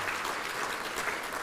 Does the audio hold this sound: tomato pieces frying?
no